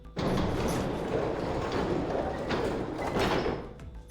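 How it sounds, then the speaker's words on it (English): A heavy gate in the video game 999: 9 Hours, 9 Persons, 9 Doors being pushed open, a sustained grinding, scraping rumble lasting about four seconds and fading at the end. "On Junpei's signal, they both pushed, and the gate creaked open"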